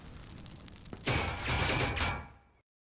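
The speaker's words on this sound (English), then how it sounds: "someone is shooting at you through the boxes" Gunfire in a competitive video game shooter: a burst of rapid shots fired through boxes at a bomb site, rattling for over a second at moderate loudness after a single earlier crack, then cutting off.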